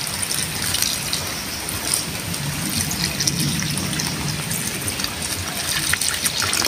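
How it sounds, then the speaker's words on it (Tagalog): Water pours in a steady, continuous trickle into a pot of braised pork hock seasoned with soy and oyster sauce, a close, even splashing stream. "Dagdagan lang natin ng tubig."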